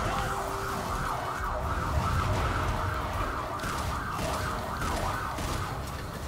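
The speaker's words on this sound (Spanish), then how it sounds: "Una ambulancia." An ambulance siren in the Devil May Cry 5 video game, wailing in a steady repeating up-and-down cycle throughout, loud and continuous over a rumbling game background.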